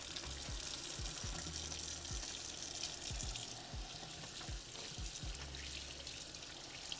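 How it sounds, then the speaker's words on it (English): A tap runs into a sink while hands are washed, a faint steady water patter with a few soft low knocks and splashes. "Now we're going to wash up our hands for sure."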